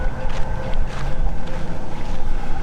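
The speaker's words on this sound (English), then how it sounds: "It is the wind blowing through this." Wind blows through an opened structure at a high lookout, making a steady, loud, breathy rush with a faint hollow moaning tone and no talking.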